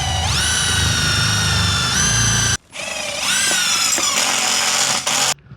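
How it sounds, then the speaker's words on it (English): Power drill driving 16 mm hex head metal self-drilling screws, two close, loud whining bursts with rising pitch as each screw bites and seats, separated by a brief pause. "I'm going to be using that 16 millimeter hex head metal self driller"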